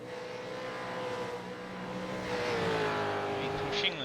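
Supercars race car engines in an iRacing simulation at Sonoma, a steady buzzing drone with rising and falling revs as cars accelerate, under a commentator's voice speaking over the racing.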